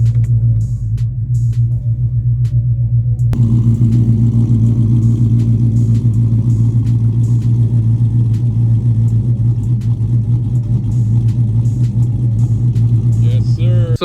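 A Dodge Charger R/T engine idles steadily after a cold start in a garage, a loud, deep, continuous rumble with a constant low drone, after a brief quieter moment at the start.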